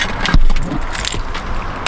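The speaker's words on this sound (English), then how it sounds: "got the keys in my hands" Car keys jingle in a hand up close, a loud metallic rattle near the start followed by lighter scattered clinks, with a faint hum of traffic or an engine behind.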